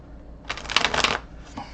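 A brief, close riffle of tarot cards being shuffled, a quick papery flutter lasting under a second, then a faint soft card tap in a quiet room.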